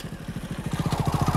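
A motorcycle rolls past on a village lane, its engine giving a steady rapid pulsing putter that grows slightly louder and closer toward the end, heard alone with no talk.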